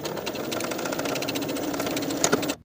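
A sewing machine runs steadily, stitching a seam on a quilted jacket: a rapid, even mechanical whir-and-tap close by that stops abruptly at the end.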